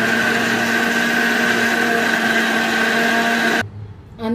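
A mixer grinder blends wheatgrass with water, a loud, steady high-pitched motor whine with a constant hum that runs for several seconds and then cuts off abruptly, followed by a brief clatter.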